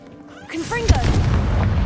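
Confringo blasting spell going off in a video game, a loud boom that swells into a rumbling burst and lingers over a low roar; a voice casts just before it.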